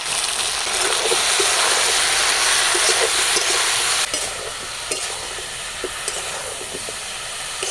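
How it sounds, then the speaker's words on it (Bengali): Green banana and potatoes fry with salt and turmeric in a hot pan, a loud continuous sizzle with scraping stirs that drops to a softer crackle halfway through, punctuated by utensil taps, no voices. "লবণ আর হলুদ দিয়ে কাঁচকলা আর আলুগুলোকে একটু ভালো করে ভেজে নেব"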